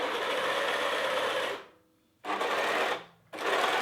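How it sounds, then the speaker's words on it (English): An overlock sewing machine stitches fabric being stretched under the presser foot, a fast steady mechanical whir in three bursts separated by two short pauses, close and fairly loud with no talk. "you have to stretch the fabrics underneath the machine whilst you're sewing"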